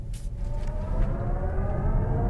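A BMW iX1 electric car accelerates hard in sport boost mode, heard from inside as a rising, gliding electric whine over a heavy low road rumble that stays loud and steady, with no one speaking.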